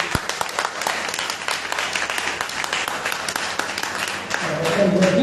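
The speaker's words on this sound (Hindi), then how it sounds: "अगर काफी है तो तालियां बजा दें।" An audience at a golden jubilee celebration breaks into scattered clapping that builds into fuller applause, mixed with crowd murmur and a faint voice near the end.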